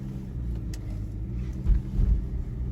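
A Volkswagen Touareg fitted with summer tires creeps slowly over snow, its engine a low, steady rumble heard from inside with a couple of heavier surges and no talk.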